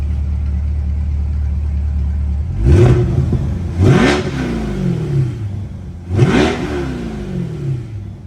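A Chevrolet C8 Corvette Stingray exhaust idles steadily, then gets three sharp, loud revs, each flaring up and sliding back down to idle, heard from about 20 feet away with no talking.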